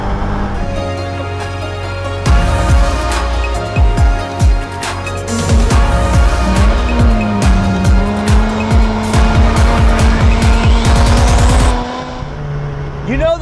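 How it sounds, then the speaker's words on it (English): A Mazda Miata NC's aftermarket exhaust roars loudly close up, revving hard with crackles and pops, then settling back to a rumbling idle. "I bought another exhaust. Sorry, I just can't help myself. And it sounds pretty good."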